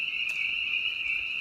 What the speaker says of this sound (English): unreal how loud those stinking frogs are.